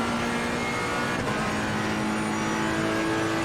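A race car engine roars steadily in Assetto Corsa Competizione, a continuous loud droning tone held at high revs with no speech.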